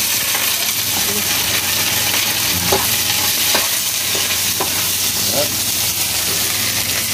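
Onion sautés in hot oil with garlic, a loud, close, steady sizzle and hiss broken by several metallic stirring scrapes and clinks.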